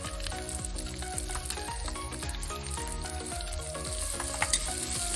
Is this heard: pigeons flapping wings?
no